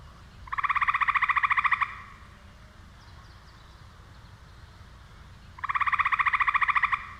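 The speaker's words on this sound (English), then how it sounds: "Tree frog, which can change color from gray to green." A tree frog that changes color from gray to green gives two loud, rapid pulsing trills, each lasting over a second and separated by a few seconds of quiet outdoor background.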